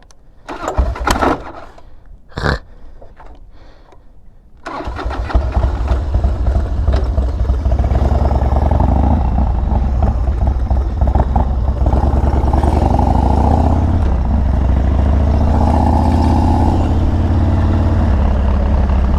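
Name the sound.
Harley-Davidson Dyna FXDX motorcycle starting and riding off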